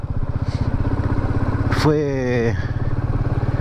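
Royal Enfield Meteor 350 motorcycle engine running steadily with a pulsing low thump, a rising rev sweep midway, and someone speaking over it.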